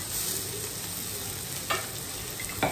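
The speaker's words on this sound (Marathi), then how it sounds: "आता छान आपल्याला एकजीव करून घ्यायचं आहे, छान असं परतून घ्यायचं आहे ते" Chopped onion and tomato frying in oil and butter for pav bhaji, with a steady close sizzle and a couple of brief stirring scrapes.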